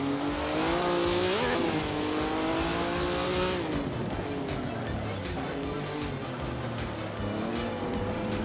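1955 Formula One cars racing around Monaco in Assetto Corsa, engines revving loudly with rising and falling pitch as they brake and accelerate through a hairpin, several cars close together with a brief tyre squeal.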